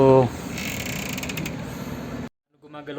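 A 6D cinema motion seat at Toyotwn in Abha, driven by four air-compressor cylinders underneath, gives off a loud, continuous creaking, whirring mechanical movement. It cuts off abruptly into silence, with a voice briefly heard at the start and again after the pause.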